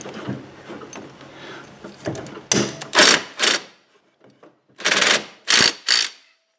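Impact wrench tightening a pulley bolt on a Husqvarna AWD lawnmower while the shaft is held with vice grips, firing in several short loud bursts with brief pauses between them.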